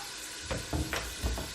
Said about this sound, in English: Add carrots and continue to saute for about 5-6 minutes.